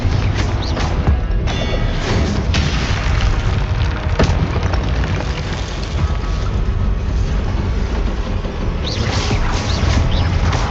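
Confringo blasting spells detonating in the video game Hogwarts Legacy, loud booming explosions with dense rumbling low end and crackling debris, continuous and close for over ten seconds with occasional sharper bursts.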